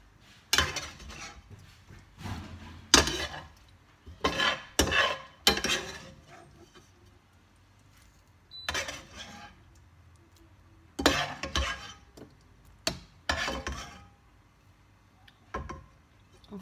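Scampi being stirred into a béchamel sauce in a pan, with a utensil clinking and scraping against the pan in sharp, irregular bursts separated by quiet pauses.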